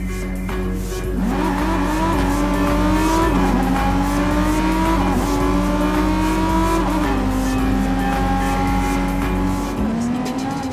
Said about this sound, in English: We can get there by driving across the Bay Bridge together.